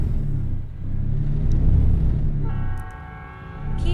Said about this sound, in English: I really hope that train's going, not going across the road we need to drive on.